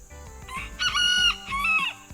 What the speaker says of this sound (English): And there is our rooster.